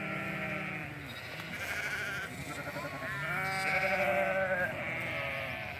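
Ewes and lambs bleat continuously and overlapping as the flock is moved through an opened corner to new pasture, several animals calling at once close by in a steady, loud chorus.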